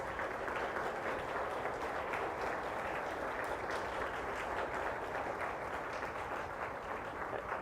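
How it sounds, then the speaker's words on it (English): An audience gives a round of applause for a team of students standing up, a continuous, even roar of many hands clapping that holds steady at moderate loudness throughout, no voices rising above it. "Everyone give them a round of applause."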